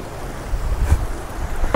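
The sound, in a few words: sea waves crashing on shore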